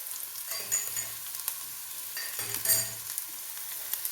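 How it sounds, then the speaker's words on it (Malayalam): Crushed ginger and garlic sizzle in a pan, stirred with a few scraping clacks over a steady fry, for a Kerala-style lentil rasam. "ഇഞ്ചിയും വെളുത്തുള്ളിയും ഇടുന്നുണ്ട്"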